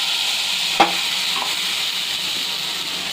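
Mustard spice paste frying in a pan gives a continuous close sizzle with a soft hiss, broken early on by one sharp utensil clack.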